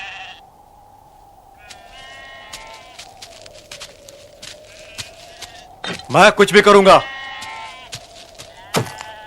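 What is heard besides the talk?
sheep bleating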